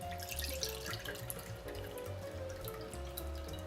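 Excess water drains from tomatoes as lutenitsa sauce is made, a steady close trickle and dripping that runs continuously with no talk.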